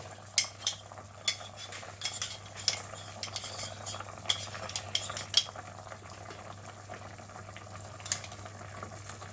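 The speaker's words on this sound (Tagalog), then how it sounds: "Lagyan natin ng konti para hindi sobrahan ang lapot. Ihalo po natin." Cornstarch slurry being stirred into a sweet and sour sauce for tilapia, a spoon clinking and scraping against the pan in quick irregular taps over a soft steady simmering hiss, with no talking.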